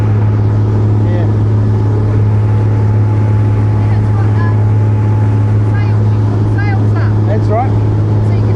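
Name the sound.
water taxi motorboat engine on Sydney Harbour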